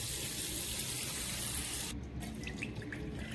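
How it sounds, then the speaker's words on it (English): Dirty water poured out of the opened waste-water tank of a Shark HydroVac MessMaster cordless wet-dry vacuum, a steady close splashing stream that runs on without a break, its character changing slightly partway through. "open the dirty water compartment, lift up the filter, and pour the contents out"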